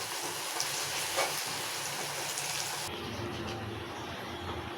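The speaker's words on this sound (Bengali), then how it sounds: "এই যে বেরেস্তা করে নিচ্ছি" Sliced onions fry in hot oil for beresta, a steady close crackling sizzle that carries on without a break and shifts in tone partway through.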